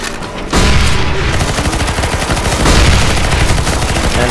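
Rapid, continuous gunfire from players defending a position in CS:GO Zombies, loud and dense bursts of shots rattling almost without pause after a brief quieter opening.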